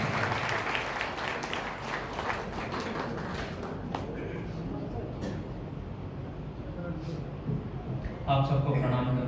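Loud applause from an audience at a poetry gathering welcomes a comic poet, a dense continuous roar of clapping that fades somewhat midway, with a voice starting to speak near the end.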